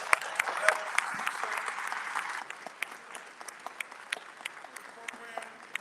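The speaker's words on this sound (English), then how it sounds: "Give him a loving round of applause." A town hall crowd claps steadily for several seconds, the applause loud at first and then thinning into scattered claps.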